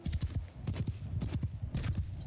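Galloping horse hooves from mounted archers in the medieval battle game Mount & Blade II: Bannerlord, a fast, steady clip-clop rhythm of several horses close by, continuous and fairly loud.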